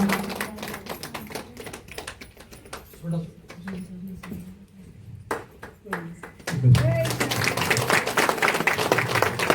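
An audience at a trust's felicitation ceremony breaks into applause: scattered claps under a voice build into dense, loud, sustained clapping toward the end.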